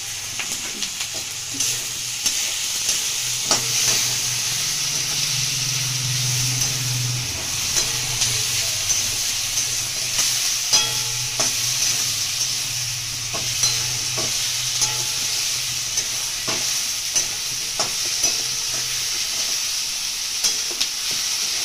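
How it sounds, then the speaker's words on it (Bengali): Cashews and poppy seeds fry in a pan for butter paneer, a steady close sizzle with a bright hiss and regular clinks and scrapes from a stirring spoon throughout, no one talking. "এটাকে ভালো করে ভেজে নিতে হবে বন্ধুরা।"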